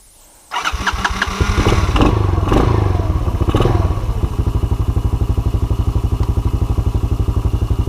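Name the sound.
Honda ATV engine starting with choke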